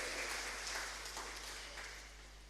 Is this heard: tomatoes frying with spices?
no